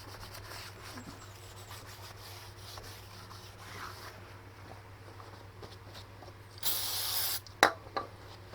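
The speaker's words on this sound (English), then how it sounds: "a bit of brake cleaner on the disc, make sure it didn't pick up any grease" Brake cleaner hisses from an aerosol can onto the rear brake disc of a 1999 Subaru WRX in one loud burst of about a second, followed by a few rubbing and clunking handling noises.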